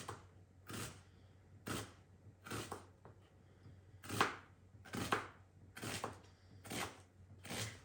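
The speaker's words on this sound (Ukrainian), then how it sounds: "нарізаємо цибульку півкільцями" A knife slices an onion into half rings on a cutting board, giving about nine evenly spaced, crisp chops that are fairly quiet and close, with no talking.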